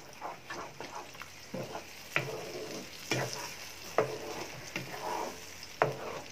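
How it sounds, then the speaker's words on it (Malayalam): Banana halwa with jaggery syrup is stirred in a pan over medium heat, a spoon scraping and sloshing through the thick, sizzling mixture in repeated rhythmic strokes, close and steady. "ഇനി ഒരു മീഡിയം ഫ്ലെയിമിൽ ഇട്ടുകൊണ്ട് ഇത് നന്നായിട്ട് മിക്സ് ചെയ്യുക."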